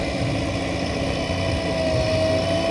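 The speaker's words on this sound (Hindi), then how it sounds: "जेसीबी लोड कर रही है इनको" A JCB excavator loads soil into a Farmtrac 60 Super Max tractor trolley, heard as a constant, loud, close diesel engine drone with a low rumble and no distinct scoop impacts.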